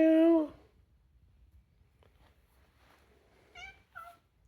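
A grumpy cat gives a loud, drawn-out meow up close, followed by two short, fainter mews about three seconds later, with near-silence between them.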